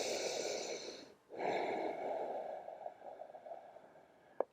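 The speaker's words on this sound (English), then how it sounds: "Strong inhales and exhales in and out through the nose." Strong, deliberate breaths drawn in and pushed out through the nose during a yoga session, a long airy inhale, a brief pause, then a sustained rushing exhale ending in a small sniff, close and fairly quiet.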